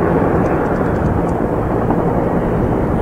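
Firefighting helicopter flying over a wildfire near a historic red bridge, a steady loud rotor and engine roar with a broad rumbling wash that holds constant from start to finish.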